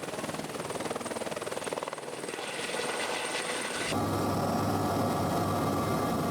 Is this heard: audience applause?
no